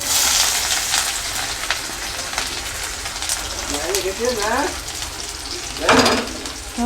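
Potatoes and onion fry in a pan with a constant bright crackling sizzle, stirred now and then, while a person speaks briefly over the cooking.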